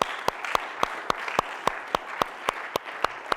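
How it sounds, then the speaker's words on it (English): Scattered applause from a small audience for a performer at a talk on performance psychology: a soft, steady bed of clapping punctuated by sharper, evenly spaced claps, moderately near and fairly quiet. "Another round of applause."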